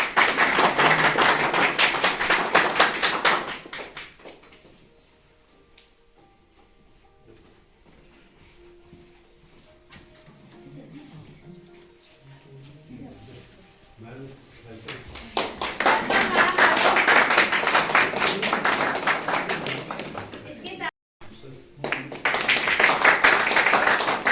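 Applause for a chief guest being welcomed with a bouquet at a heritage guide training event: a loud burst of clapping at the start, a quieter stretch, then a second long, strong round of clapping that runs to the end.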